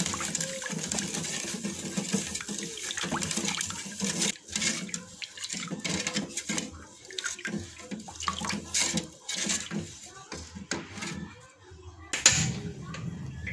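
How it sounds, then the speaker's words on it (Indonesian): Water, 900 ml, is poured into watermelon pudding mix in a kitchen: a faint splashing, trickling flow with uneven bursts over the whole stretch, ending in a brief louder clatter. "Bila sudah, lalu tambahkan air sebanyak 900 ml."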